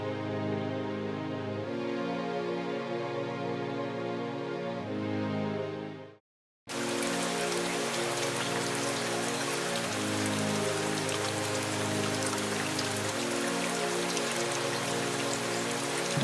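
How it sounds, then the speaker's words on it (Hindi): Heavy rain pours down in a dense, steady hiss that fills the scene, with gentle music playing first before a brief silent cut and then the downpour alone. "बाहर बारिश बहुत है"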